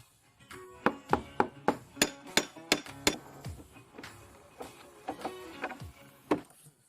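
A hammer strikes a metal rod during a DIY build turning a barbecue into a mobile station: about nine sharp, evenly spaced ringing blows in quick succession, then a few scattered, softer knocks.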